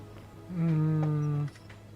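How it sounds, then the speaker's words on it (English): A single sustained honk from a goose in The Forgotten City video game, about one second long and fairly loud over a steady background hum. "You can talk to the goose."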